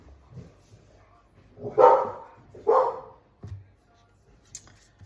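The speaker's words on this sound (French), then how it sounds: "il y a mes chiens qui vont aboyer" Two or three low barks from a dog nearby, separated by short pauses, with a faint yip at the end and quiet background otherwise.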